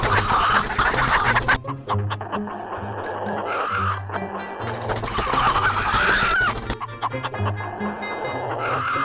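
A red chicken clucking and crowing up close, loud repeated calls in bursts with rustling and other fowl noise around it; no speech.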